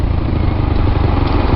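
A moped engine drones steadily and loudly while riding through Vietnam, with a dense, rumbling buzz, wind-like rush and no voices.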